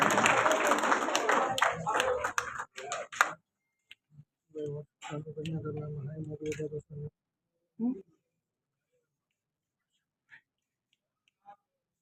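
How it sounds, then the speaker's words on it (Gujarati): A crowd at a women's award ceremony claps in a burst of applause, loud at first then thinning into scattered claps before going quiet. "પ્લીઝ જોરદાર તાળીઓ થઈ જાય"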